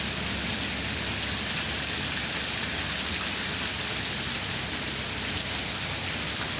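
Late-February rain falls steadily in Arkansas, a dense, unbroken hiss of drops at constant loudness with no voices.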